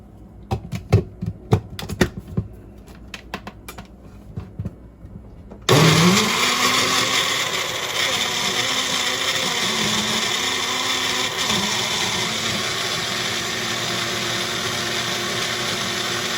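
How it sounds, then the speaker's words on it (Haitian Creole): A blender whirs steadily while mixing an avocado chocolate mousse, starting abruptly after a few sharp clicks and taps and then running loud and continuous with a slight wavering pitch for the rest of the clip. "Quand on va le blender."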